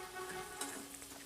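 Dal (lentils) fry in a pan, giving a short, quiet, even sizzle with light stirring scrapes and no voices.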